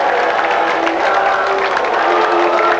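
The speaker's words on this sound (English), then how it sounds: "A huge crowd have turned out for this historic last game in the conference." A large football crowd cheers and applauds at Wycombe Wanderers' last Conference game, a dense, steady roar of clapping and voices with no gaps.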